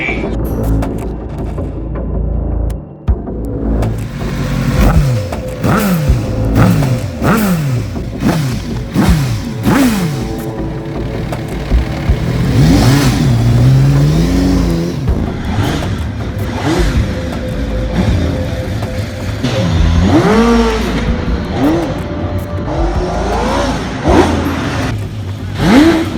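The homemade Eisenberg V8 motorcycle engine revs hard and repeatedly, loud, close throttle blips rising and falling in quick succession with longer wailing climbs, sustained throughout with no talk.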